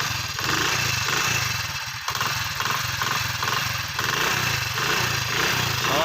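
A Honda CD 70 motorcycle engine runs steadily nearby, its loud, continuous idle pulsing with a rough mechanical rhythm throughout.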